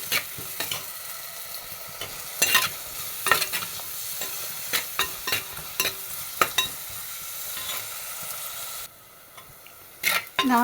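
Small shallots and an onion frying in a pan, a soft steady sizzle broken by repeated scraping stirs of a spatula against the pan, close up, with a quieter pause near the end.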